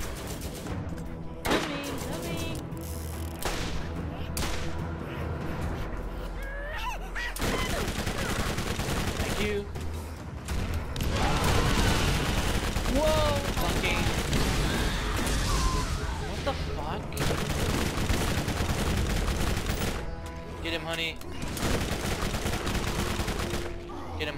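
Heavy gunfire in Borderlands during co-op combat: sustained, dense shooting with rapid bursts and booms for almost the whole stretch, under agitated talk from the players.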